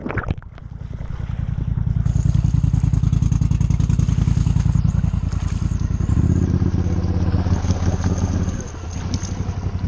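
A 1,000-pound Motos 850 Highlifter ATV on 34-inch tires, its engine running loud and close with a rapid pulsing throb that rises and strains under load, with wind buffeting the microphone.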